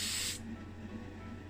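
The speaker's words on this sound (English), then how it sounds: "we're going to hit it up now with some Tamiya Fine Surface Primer in grey" Tamiya Fine Surface Primer in grey sprayed from an aerosol can onto a die-cast Matchbox Ford Transit Supervan II body: one short, loud, close hiss that stops abruptly, leaving quiet room tone.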